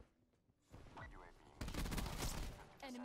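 Rapid automatic gunfire in Black Ops 4, close and loud, comes in dense bursts with a short gap in between, and game effects and a voice sit under the shots.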